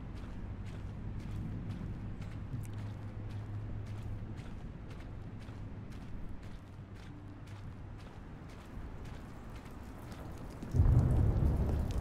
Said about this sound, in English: Now it's all raining.